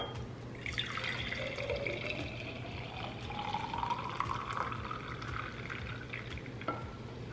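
Champagne is poured into a mason jar, a steady fizzing, gurgling stream with a rising pitch as the jar fills, close and soft, ending with a brief clink.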